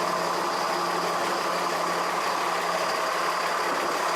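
A motorhome rolls out of a warehouse. Its engine drones steadily at a near, even level with a broad, continuous rumble and no voices.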